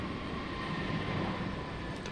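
An airplane departing from Raleigh Durham International Airport, a steady broad jet engine roar holding at even loudness throughout, moderately distant.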